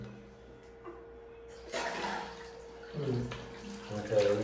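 Water from a repaired faucet in a house in the Philippines starts running and splashing in uneven bursts, faint at first then louder, with people talking nearby.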